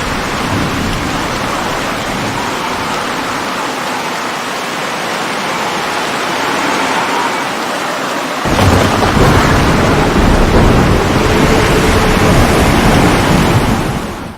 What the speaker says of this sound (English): And also in various weather conditions like a storm.